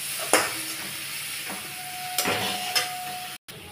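Bottle gourd peels sizzle in hot oil with salt and turmeric in a pan. A steady hiss of frying runs throughout, broken by a few scraping stirs of a spatula and a brief pause near the end.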